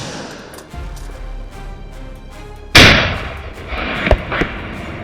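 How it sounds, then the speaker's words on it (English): A sudden loud outdoor gunshot cracks out, followed by a few sharper shots in quick succession over a low rumbling background, fired at wild boars on an Italian farm. "Several gunshots rang out in quick succession."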